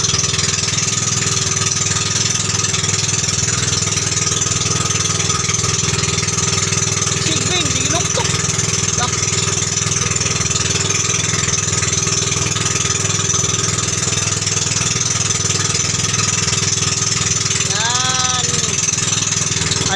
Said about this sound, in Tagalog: bawal po yung mataas na tambutso sa maliit na engine kasi madali lang po siyang uminit yung makina mga drivers kaya sobrang ingay talaga yan